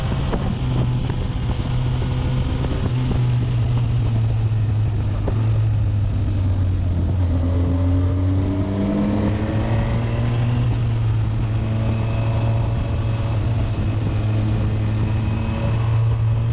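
A Honda Hornet 1000 SP motorcycle drones steadily while being ridden on mountain roads, its engine note rising and falling through the gears under constant rushing wind noise.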